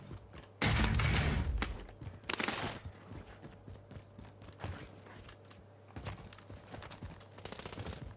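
Loud bursts of automatic gunfire from the Warzone video game, with a heavy close volley early on followed by scattered shots and quieter bursts toward the end.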